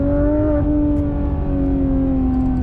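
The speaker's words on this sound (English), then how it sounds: "it's just nice to listen to the engine growling away" The engine of a Porsche GT3 RS growls steadily and loudly from inside the car, holding a smooth, slowly shifting drone throughout with no voices.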